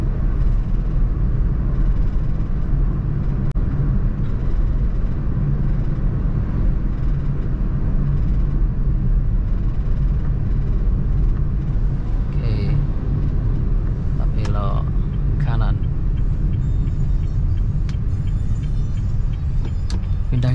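A Honda Brio on an Indonesian road, shifting up into third gear: a steady, loud, low engine and road rumble fills the cabin throughout, with a few faint high chirps near the end.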